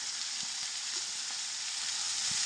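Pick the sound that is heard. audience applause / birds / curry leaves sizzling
curry leaves sizzling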